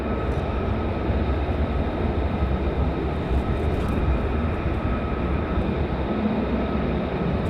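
A fighter jet flies past on approach at RAF Lakenheath airbase, its engine a steady, loud, broad roar that holds for the whole stretch with no voices.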